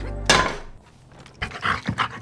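A dog in a cemetery gives a sharp bark followed by quieter panting and snuffling sounds nearby.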